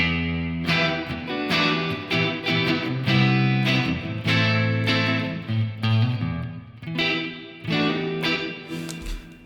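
Electric guitar played through iZotope Neoverb reverb, with the plugin cutting parts of the signal feeding the reverb; a steady run of strummed chords and notes, loud and close, washed in a long reverb tail with no talking.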